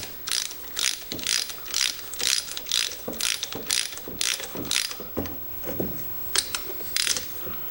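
A hand ratchet tightens head bolts on a 1940s Lawson two-horsepower engine, giving close, crisp bursts of rapid clicking in short repeated strokes with brief pauses between them and no talk.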